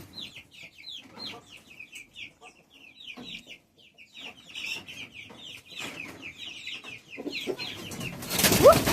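Young chickens and a rooster cluck in a coop, a steady run of short, bright calls overlapping one another at close range, with a louder scuffle and rustle at the end.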